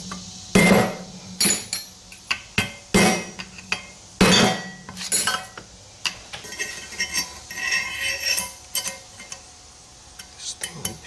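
A steering head bearing cup on a 1978 Kawasaki KZ750 is hammered out with sharp metallic whacks, loud and irregular, in bursts of several blows with short pauses between.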